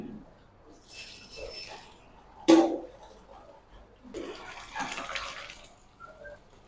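Hot water poured over cooked rice in a basket with holes, for a 5 kg chicken biryani, rushing and splashing in two pours with a sharp knock between them, while someone talks over it.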